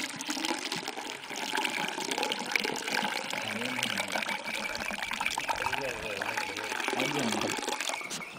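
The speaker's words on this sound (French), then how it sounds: "maintenant nous avons du lait de soja. Je peux le laisser couler." Homemade soy milk for tofu pouring and trickling in a steady stream, close and fairly loud, with voices talking over it.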